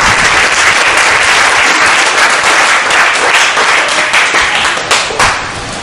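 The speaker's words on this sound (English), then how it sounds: "Everybody clap for the Lord right now." A church congregation claps together during a sermon, a loud, steady wash of many hands that thins slightly near the end.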